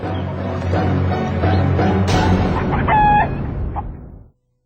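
Chickens on a reality TV challenge set, clucking loudly and close, with a rooster's crow rising near the end before the sound cuts off abruptly.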